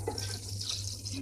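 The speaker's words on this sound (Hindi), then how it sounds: "अब पानी डालते हैं" Water runs steadily into a cooking pot with a stew of goat tripe and spices, a continuous splashing pour heard close up with no talk.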